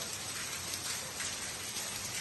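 Heavy rain pours steadily during a storm in southern Brazil, a dense, even broadband hiss of water drumming on surfaces with no pauses and no voices.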